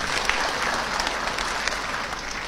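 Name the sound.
audience applause for Dato Sri Anwar Ibrahim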